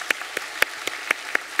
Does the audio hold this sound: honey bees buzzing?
no